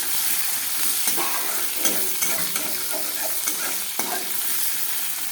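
Chopped onion frying in oil for a boal fish curry is stirred around the pan, a continuous close sizzle broken by repeated scraping and clinking of the spoon, with no voices.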